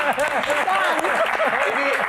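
Audience applause at an Indonesian Q&A session with the comedian Sule, brief and fairly steady, with a voice talking over the clapping.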